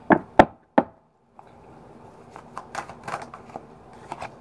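Playing cards shuffled by hand: three sharp knocks or taps open, then a soft, irregular riffling and flicking rattle follows, close and fairly quiet, with no talk.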